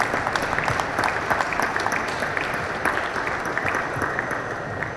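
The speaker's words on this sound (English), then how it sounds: "So another round of applause" Sustained applause from an audience at the Green Solutions Awards ceremony for the Energy and Temperate Climates prize, a dense, steady clapping that holds at even loudness throughout, with no voices rising above it.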